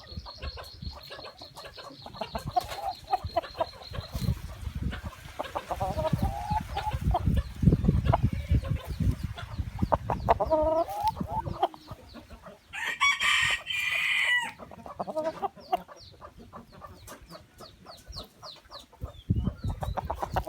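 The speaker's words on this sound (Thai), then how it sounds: "ไก่หนุ่มสวย" A young rooster crows in repeated drawn-out calls between bursts of clucking and scratchy farmyard noise, close and fairly loud, with one especially bright crow near the middle.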